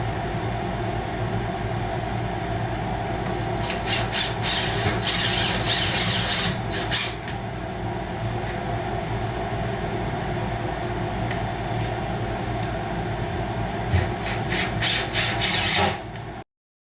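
A corner piece screwed onto a wooden pet bed frame with a power driver, a close mechanical whirring in two bursts over a steady hum of background noise.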